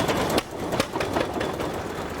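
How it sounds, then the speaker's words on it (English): Antique flywheel engines run at a farm show, chugging with a steady rhythmic knock and repeated sharp exhaust pops over a dense mechanical din. "They're called flywheel engines, the name coming from the heavy flywheels that make them run."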